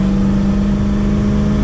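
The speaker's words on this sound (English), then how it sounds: "we're cruising at 75 miles an hour, and the car is just barely, not even breathing hard" A 1971 Ford Mustang with a 351 Cleveland V8 and an Edelbrock carburetor cruises at highway speed, its engine a loud, steady, even drone with a strong low hum filling the cabin throughout.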